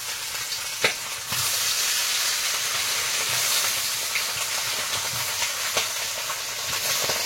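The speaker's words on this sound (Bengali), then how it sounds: "লবণ হলুদ মাখানো হয়ে গেছে, এখন ভেজে নেব।" Fresh river fish coated in salt and turmeric fry loudly in hot oil with a dense, steady sizzle that starts after a sharp clatter, close by, with scattered utensil knocks and no speech.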